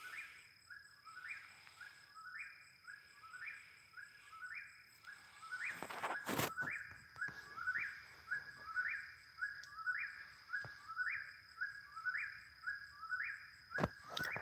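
A whippoorwill calls repeatedly in a steady rhythmic series of clear whistled phrases at night, moderately near, with a few sharp knocks and faint background insects around the calls.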